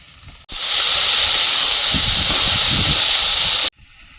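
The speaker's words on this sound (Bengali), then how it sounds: "ভেন্ডিটা ভাজতে দেব লবণ হলুদ গুঁড়ো" Okra hits hot oil in a pan with salt and turmeric, setting off a sudden loud, steady hissing sizzle that lasts about three seconds and then cuts off abruptly, with no speech.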